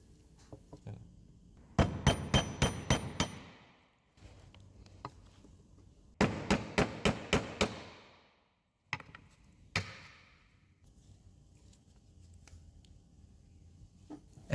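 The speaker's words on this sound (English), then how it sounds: "with a couple of hammer taps, the oil seal comes out" A hammer strikes a socket to drive an engine oil seal out of a Hyundai D4EA CRDi diesel during a rocker cover gasket job. Two close bursts of five or six quick, sharp metallic taps are followed by a single tap, with no talk.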